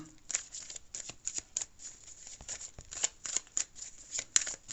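Tarot cards are shuffled and then drawn in a quiet room, giving quick close riffling bursts and soft slaps in an irregular rhythm, with no talk over them.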